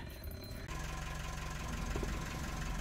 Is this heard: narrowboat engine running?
yes